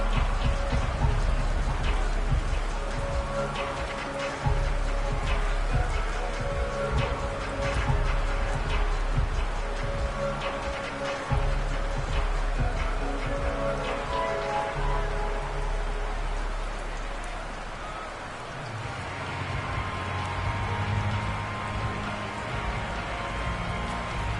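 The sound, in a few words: rain falling during football game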